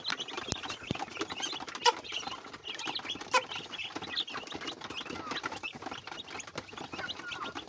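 Day-old broiler chicks peep and cluck in a dense, continuous chorus while feeding, with sharper chirps rising above the steady twittering throughout; close and moderately loud, with no talking.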